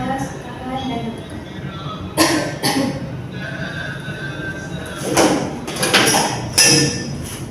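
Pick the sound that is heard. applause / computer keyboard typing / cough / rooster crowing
cough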